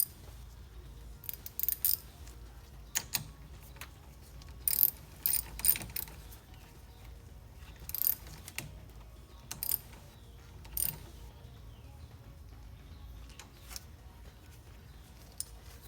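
A bolt being tightened on a battery disconnect switch on a 1988 GT car: a series of short ratcheting clicks in small bursts with pauses between them, close up and fairly quiet, with no talking.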